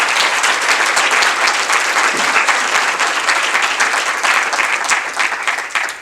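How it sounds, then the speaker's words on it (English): A room of meeting attendees giving themselves a round of applause, steady, loud, dense clapping throughout that tapers slightly at the end. "we just gave ourselves a round of applause for that"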